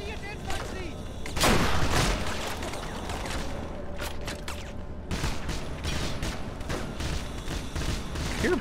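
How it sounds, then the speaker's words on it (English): Gunfire and battlefield noise from the Wii shooter Medal of Honor: Heroes 2, with scattered shots and bursts over a dense, busy game soundscape and a louder volley near the start, while a person talks over it. "I hear bullets like behind me."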